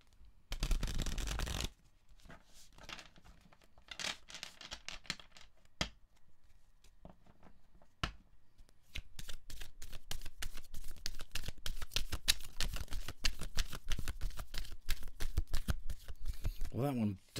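Tarot cards are shuffled by hand: a few separate bursts of riffling and slapping, then a long, dense run of rapid papery flicks, close and clear.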